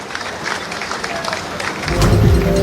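Applause from the audience at a community gathering in Bhopal where the Madhya Pradesh chief minister is speaking, steady clapping that swells louder toward the end, with voices mixed in.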